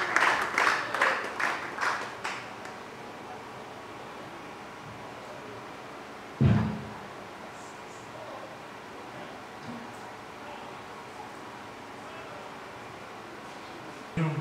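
A Pentecostal church congregation claps together in a brief burst of rhythmic applause that fades within a few seconds, leaving a quiet hall broken only by one dull thump and faint rustling.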